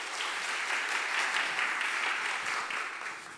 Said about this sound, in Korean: 큰 박수로 맞아주시죠.